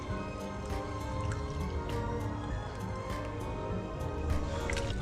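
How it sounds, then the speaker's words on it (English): Fresh lemon juice strained through a kitchen strainer, trickling and dripping steadily into a container below, a soft continuous liquid patter. "We're just gonna pour it through our strainer to get all the seeds and stuff out"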